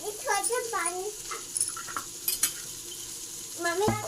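Tempered rice with egg fries in a pan while being stirred, a soft sizzle and spoon scrapes heard under people talking nearby.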